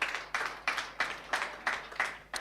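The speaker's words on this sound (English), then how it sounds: "Ladies and gentlemen, let's clap for the speaker." Rhythmic, evenly spaced claps, about seven sharp bursts each decaying quickly, from an audience at a men's inspirational keynote and panel event, fairly close and without talk.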